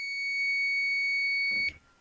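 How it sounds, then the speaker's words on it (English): A multimeter's continuity buzzer sounds when the probes touch a ground point on a desktop motherboard's VRM circuit: one steady high-pitched beep of almost two seconds, cut off by a soft clunk. "when ground are match, then it will be buzzer"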